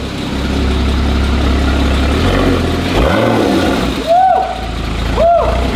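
An engine in a wrecked Porsche idles steadily at close range, running smoothly, then gives a few quick revs with rising and falling pitch near the end.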